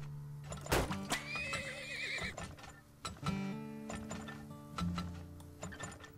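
Horses neigh in the mining video game Turmoil, a loud whinny followed by clopping hooves and clicking, ratcheting machinery and gear sounds.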